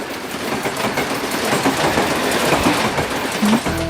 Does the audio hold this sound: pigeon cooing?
no